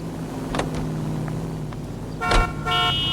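A car driven in the L.A. Noire video game, its engine humming steadily, then a short honk-like toot and a brief burst of road noise close by.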